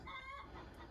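Quiet clucking from a laying hen close by, a short run of rising, nasal clucks with no talk.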